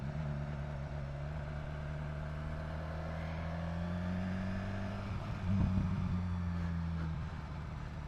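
A BMW S1000XR motorcycle engine drones steadily while riding, a low rising tone building into a louder rev around the middle, with wind noise throughout and no speech.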